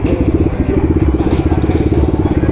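A superbike engine at a Sunday bike event in Chhattisgarh, with a loud, close, lumpy idle thumping in a fast steady rhythm for the whole stretch.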